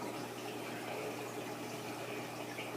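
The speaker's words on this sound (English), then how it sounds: "Also added a little sump pump on there." A small sump pump moves water in a 150-gallon fish tank, giving a faint, steady trickle and hum that runs evenly throughout.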